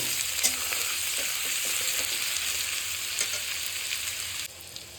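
Four large chopped onions fry in a pan until lightly reddish, a loud, steady sizzle with occasional stirring clicks, close and uninterrupted by talk.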